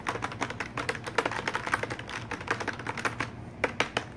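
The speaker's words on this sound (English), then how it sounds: "After you say them words, type real fast for 3 seconds." Rapid, continuous clacking of computer keyboard keys, a dense flurry of close taps with brief uneven pauses.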